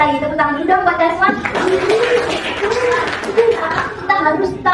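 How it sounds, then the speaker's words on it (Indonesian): Classroom of students clapping for a classmate, a lively mix of claps, chatter and children's voices, with a teacher speaking over the start and end. "tepuk tangan dulu dong buat Desmond"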